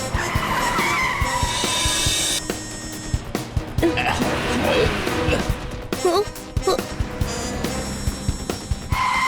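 A cartoon car stops suddenly, its tires skidding and squealing in a long screech, followed by scattered bumps and effects.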